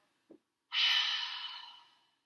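An exhale during a hip-opening yoga stretch: a quick short sniff, then one long, airy breath out that gradually fades into silence, close and soft.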